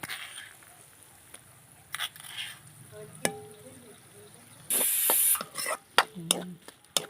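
Crushed garlic goes into okra frying in a pan, bringing a sudden loud sizzle after quiet background crackling, followed by several close scraping and stirring clatters.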